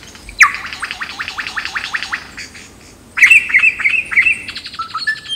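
A male lyrebird sings in forest, loud and close: a run of rapid repeated whistled notes, a short pause, then a bright burst of ringing mimicked calls and chirps.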